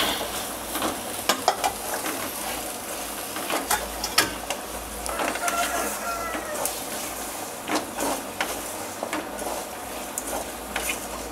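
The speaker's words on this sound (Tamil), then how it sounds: "காயை நல்லா பெரட்டி விட்டுட்டு கூட வேக வச்ச வேர்க்கடலையை போட்டுக்குங்க" A spatula clatters and scrapes through vegetables, pumpkin among them, frying in a pan, repeated knocks and rattles over a steady low sizzle, close by with no talk.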